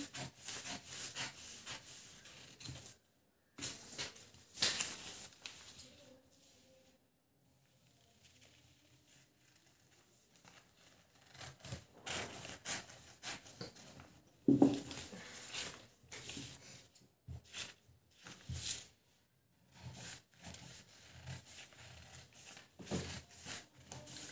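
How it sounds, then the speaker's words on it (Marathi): Blouse fabric is cut for a size 52 blouse in quiet, repeated rasping bursts separated by short pauses, close and soft. "तर आता आपण कटिंग करून घेऊया."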